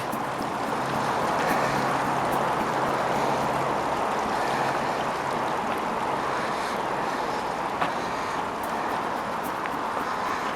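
Fast-running stream water rushing over rocks and moss: a steady, broad, hissing flow that continues without a break for about ten seconds, fairly loud and close, with no talking.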